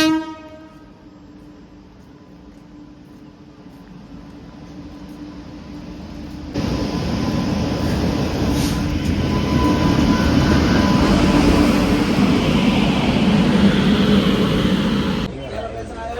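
A train passing near a station, a faint horn at first, then a loud rumbling roar of wagons building and holding for several seconds before easing off.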